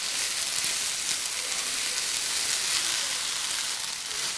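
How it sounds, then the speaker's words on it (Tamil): Okra sautéing with salt in a pan gives a steady, even sizzle and hiss with no talk, constant throughout. "இப்போ வெண்டைக்காய்க்கு மட்டும் தேவையான அளவு உப்பு சேர்த்து வதக்கிக்கலாம்."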